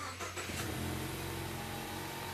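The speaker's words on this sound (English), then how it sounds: "start the engine" A Ford four-cylinder engine cranks and catches, then settles into a steady idle, close and fairly quiet, with no voices over it.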